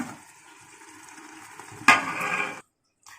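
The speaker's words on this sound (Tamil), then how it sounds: "இப்போ பேஸ்ட் நல்லா மிக்ஸ் பண்ணி இதோட பச்சை வாசனை போகிற அளவுக்கும் கொஞ்சம் நம்ம எண்ணெயிலே வதக்கலாம்" Masala paste for Hyderabadi layer chicken biryani sautés in hot oil with a steady sizzle and a sudden louder burst of frying as it is stirred, before cutting off abruptly.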